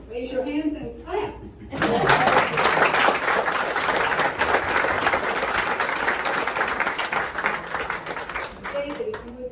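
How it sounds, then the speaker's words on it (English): Audience at a Norman Studios event in Jacksonville, Florida claps loudly and steadily for about eight seconds after brief talk, with a few chuckles mixed in before speech resumes. "raise your hands and clap."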